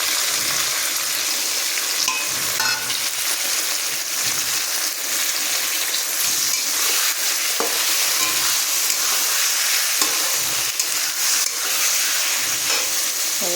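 Ginger garlic paste hisses and spatters in hot oil in a pan while being stirred, a continuous bright sizzle with intermittent scraping and clinking of the spoon, close and even in loudness.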